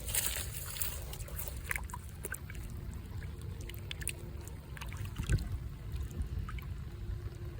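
Water pours and sloshes over a piece of petrified wood as it is rinsed off, a steady close splashing and trickling that runs throughout with no one talking.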